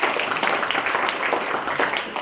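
Applause from the audience at a Toastmasters club meeting, a steady wash of many hands clapping at moderate volume, continuing evenly for a couple of seconds.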